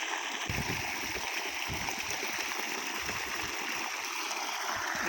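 Irrigation water running through a farm field, a continuous rushing, splashing flow with gurgles, fairly close and steady throughout, no voices.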